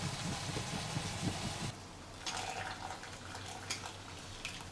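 Cooled boiled water pours steadily through a filter in a kitchen, a continuous rushing stream with faint background hum and no speech.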